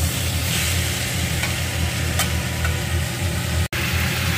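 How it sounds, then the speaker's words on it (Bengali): Pumpkin curry bubbling and sizzling in a pan, a steady broadband simmer with faint stirring clicks, close and continuous, with a low hum underneath and a brief dropout near the end. "এখানে এই যে মিষ্টি কুমড়োর তরকারিটা রান্না হচ্ছে"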